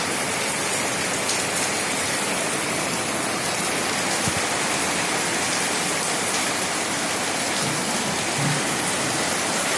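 Steady heavy rain pours down on outdoor surfaces, a dense, continuous hiss with a few scattered drips and taps, unbroken and with no voices.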